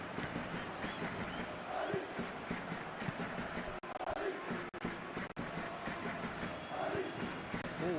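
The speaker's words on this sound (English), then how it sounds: "Forward tracking back like that, always appreciated by the crowd" A stadium crowd in the PES 21 football video game cheers and murmurs as a steady roar, with swelling surges now and then and a few brief dropouts, under faint commentary.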